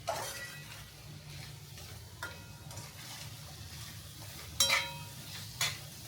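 Potato pieces frying in a pan for vegetable spaghetti, with a low steady sizzle, occasional soft stirring scrapes, and a couple of sharper utensil clinks near the end.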